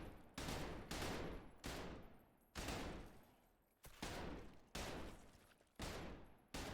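Rifle fire in the video game Trepang2, loud bursts of rapid automatic shots in repeated strings separated by brief pauses, each burst trailing off into reverberant decay.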